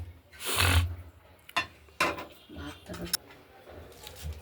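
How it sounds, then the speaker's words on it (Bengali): Mustard greens are chopped with a dao blade in a home kitchen: several distinct knocks and chops on a board amid rustling leaves, close and moderately loud, spaced irregularly. "এগুলোকে আমরা এবার দায়ে কুচিয়ে নেব"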